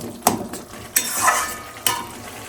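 Peeled, softened tomatoes with spices stirred in a hot pan, giving three distinct scraping strokes of the spoon over a soft, steady sizzle, with no talking.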